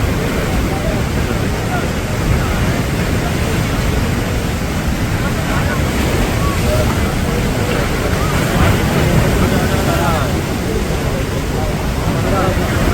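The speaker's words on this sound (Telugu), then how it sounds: "గేట్లు వదిలిపెట్టారు." Floodwater rushes through the opened gates of the Sriram Sagar (Pochampad) dam during heavy floods. The roar is loud, dense and unbroken, and it fills the whole stretch close by.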